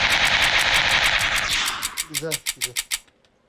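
Rapid automatic gunfire in the video game PUBG, a loud sustained burst that breaks into a handful of separate shots before stopping, with a voice cutting in partway through.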